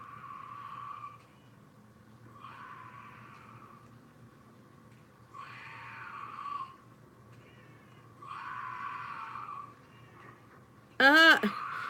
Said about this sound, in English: You can hear the sound of the monster and then a cat going meow.